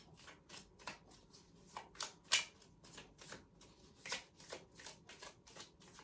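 Moonology oracle cards shuffled by hand in a steady run of crisp riffling bursts, close and fairly quiet, with no one talking.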